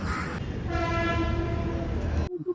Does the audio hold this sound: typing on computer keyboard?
no